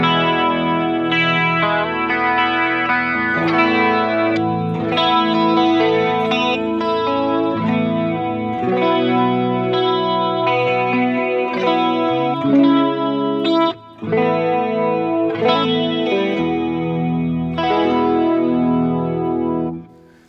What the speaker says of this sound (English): With the chorus.